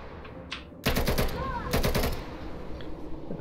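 Two loud rapid bursts of gunfire from a gun mod in Hollow Knight, each a quick rattling volley of shots, separated by a short pause over quiet game ambience.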